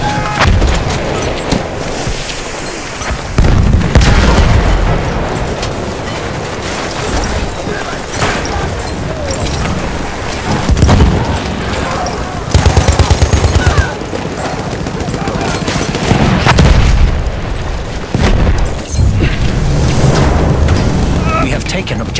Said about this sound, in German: Ich werfe eine Granate!